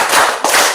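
A couple of sharp hand claps ring out close by, one after another, against a bright hiss of room noise.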